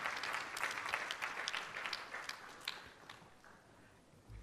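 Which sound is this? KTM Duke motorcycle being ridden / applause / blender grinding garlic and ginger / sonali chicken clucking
applause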